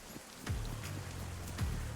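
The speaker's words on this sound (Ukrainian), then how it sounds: "Почався сильний дощ." Heavy rain in the DayZ video game falls as a steady patter on surfaces, moderately loud and continuous, with a couple of low thuds and no talking.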